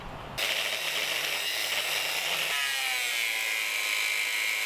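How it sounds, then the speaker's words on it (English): Power tool cutting through the metal leg assembly of a mini K-type rocket stove, heard as a loud, continuous high-pitched grinding whine that starts abruptly and shifts pitch partway through. "rather than cutting the legs, I'm going to cut that whole assembly off."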